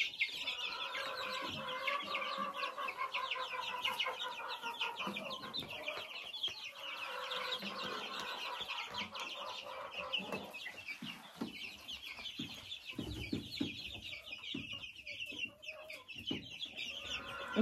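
Brood of young chicks kept in a warm coop, cheeping constantly in a dense high twittering chorus with clucking mixed in, close and lively throughout, with some scuffling and knocks underneath.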